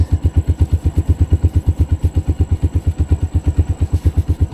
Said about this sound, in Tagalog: Prep lang tayo ng konti, warm up yung motor, tapos lalarga na tayo